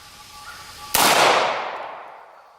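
A 9mm handload is fired over a chronograph outdoors, giving a single loud, sharp gunshot partway through, followed by a long echoing decay.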